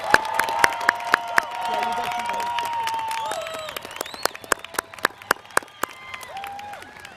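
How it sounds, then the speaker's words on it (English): A high school class of 2021 graduation crowd gives a round of applause with some cheering and shouts, a broad wash of clapping that thins as it goes on, with sharp nearby claps standing out and a voice calling over it. "can we get one last round of applause for the class of 2021?"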